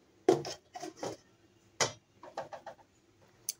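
Several clattering knocks and a sharp clink as a lid goes onto a pot of chicken biryani being finished with rose water, kewra water, ghee and spice, close and moderately loud with short pauses between hits.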